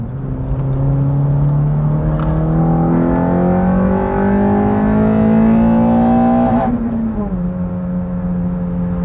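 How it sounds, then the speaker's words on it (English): A 2015 ninth-generation car with a K24 engine, ram intake and muffler delete revs hard on a road test, its loud raspy engine note climbing through the gears with a shift near the end and a voice speaking over it. "This car just enjoys being abused at those high RPMs."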